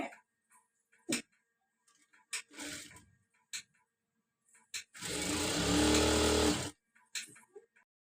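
A sewing machine stitching a cross belt runs in one steady whirring burst of about two seconds, preceded by scattered sharp ticks and clicks of handling, with more faint clicks after it stops.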